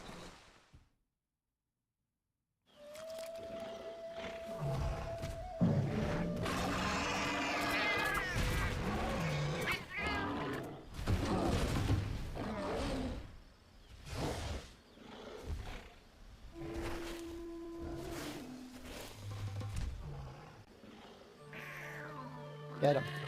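Palico cat companions in Monster Hunter 4 Ultimate meow and yowl amid game sounds, roars and a steady tone, with bursts of game effects and a person speaking over the play.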